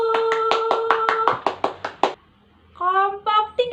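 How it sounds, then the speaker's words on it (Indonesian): Classroom group claps in a steady, quick rhythm of about a dozen beats while children chant along, followed by a short pause and then more voices. "tepuk tangan lagi buat kelompok 1"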